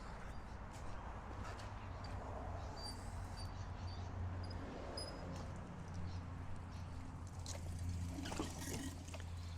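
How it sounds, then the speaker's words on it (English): Steady trickling water runs from a Yamaha outboard motor's telltale during flushing at a constant level, with a low hum underneath and occasional faint clicks. "the water will start flushing through the motor and back out the telltale again"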